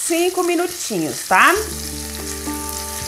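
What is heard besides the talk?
meat frying in pan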